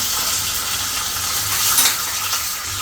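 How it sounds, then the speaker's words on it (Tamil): Dried red chillies and curry leaves crackle and sizzle in hot oil for a tempering for idli chutney. A steady close frying hiss with small pops and brief clinks of a stirring spoon, no talk. "இது நல்லா பொரியட்டும்"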